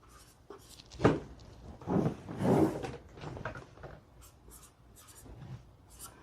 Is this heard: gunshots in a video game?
no